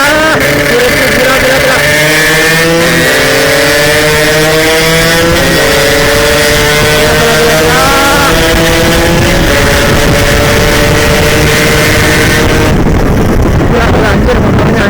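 A Yamaha RX-King two-stroke motorcycle engine revs hard while riding at speed, loud and close, its pitch climbing and dropping through repeated gear changes under heavy wind rush, then cutting back near the end.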